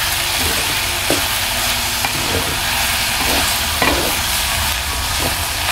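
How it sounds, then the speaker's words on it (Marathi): Finely chopped tomatoes cook in a loudly sizzling pan as they are mixed in for a cauliflower dish, with a spoon scraping through in regular strokes every second or so over the constant hiss. No one speaks. "त्यामध्ये आपण आता बारीक चिरलेले टोमॅटो घालूया, मिक्स करूया"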